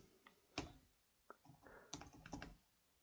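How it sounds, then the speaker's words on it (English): Quiet keystrokes on a computer keyboard come in short, irregular bursts of clicks and taps against a near-silent background. "So we'll type in"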